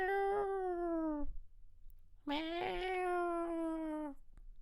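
A cat in heat gives two long, drawn-out wailing meows, each a second or more, close and clear, separated by a short pause.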